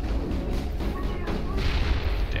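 A grenade blast in Mass Effect combat sounds amid rumbling booms and gunfire, loud and continuous across the stretch, with a voice talking over the fighting.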